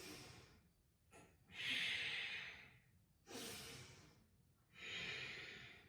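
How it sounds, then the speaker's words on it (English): Deep Ujjayi breaths drawn during a seated yoga twist, three slow, close, hissing breath cycles with soft throaty friction, each swelling and fading in a steady rhythm with no talk. "Deep Ujjayi breaths."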